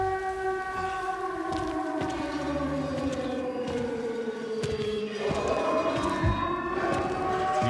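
A human voice imitates an ambulance siren during a Silent Hill 2 playthrough, a sustained wailing tone that slowly glides in pitch, loud and continuous with no speech over it.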